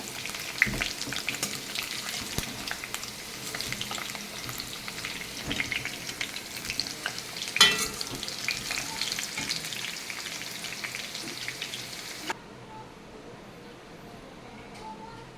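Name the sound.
potatoes frying in hot oil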